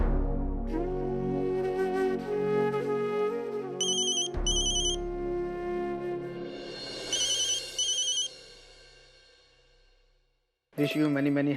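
A telephone rings in bursts during a call in an Indian TV serial, repeated electronic ringtone trills over background music, with the tone stopping and starting again after a brief silence.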